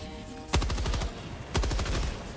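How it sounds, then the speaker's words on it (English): Rapid bursts of gunfire in the video game Helldivers 2: two loud automatic volleys about a second apart, each a quick string of sharp shots fading out, with no talking. "whoa, I'm being shot at,"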